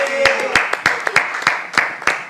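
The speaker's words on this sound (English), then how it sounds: "Appreciate him now. Clap for him now." Scattered hand clapping from a talent-show audience, with sharp individual claps spaced about every third of a second over a murmur of voices, fairly close and moderately loud.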